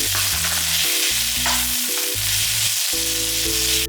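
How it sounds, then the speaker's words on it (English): Instant rice stir-fried over medium heat in a pan for kimchi fried rice with spam: a loud, continuous sizzle with stirring scrapes, and music playing underneath throughout. "Add rice and stir fry about 3 minutes on medium heat."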